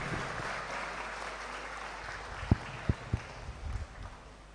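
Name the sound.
audience applause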